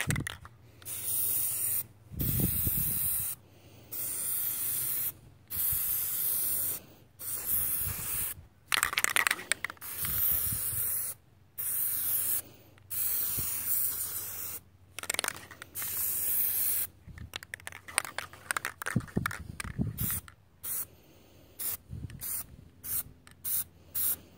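Plasti Dip aerosol spray coating car taillights: repeated hissing bursts of a few seconds each, close and loud, separated by short pauses and faster short puffs toward the end.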